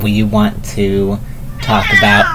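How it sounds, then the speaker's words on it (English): A cat yowls loudly and repeatedly, long drawn-out cries overlapping with people talking close by. "that is our cat screaming in the background"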